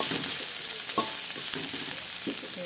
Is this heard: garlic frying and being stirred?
yes